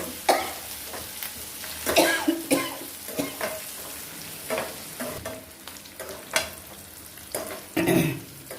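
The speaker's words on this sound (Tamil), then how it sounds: "இதை நல்லா வதக்கி இந்த குழம்ப லேசாக வதங்களா போதும்" Chicken gravy masala with onions and curry leaves sautéing in a pan, a steady near sizzle broken by repeated scraping stirs and clatter, in a Tirunelveli-style home kitchen.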